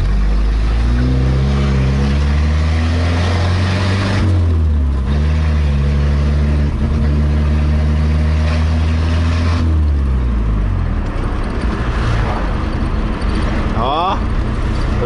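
A Chevrolet Opala engine revs while driving, a loud, close, steady drone with rising and falling pitch as the throttle changes and eases off toward the end.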